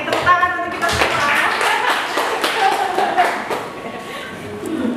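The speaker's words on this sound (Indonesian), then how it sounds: "Tepuk tangan untuk kita semua." Clapping from a workshop audience, a mix of uneven hand claps and taps with voices and some tonal chatter mixed in, fairly close and continuous throughout.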